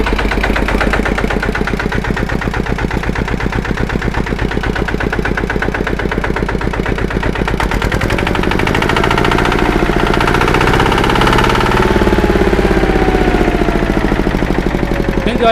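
A used walk-behind farm tractor's engine runs steadily nearby with a loud, rhythmic chugging idle, and its pitch shifts as the throttle is changed partway through.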